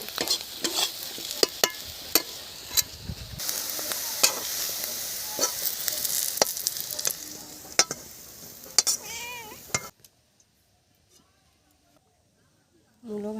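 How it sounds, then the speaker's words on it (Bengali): Radish pieces fry and are stirred in hot oil in a pan, a crackling sizzle punctuated by sharp utensil scrapes and clicks, with a cat meowing, until the sound cuts off into near silence. "এখন আমি মূলো ভাজা নামিয়ে নেব"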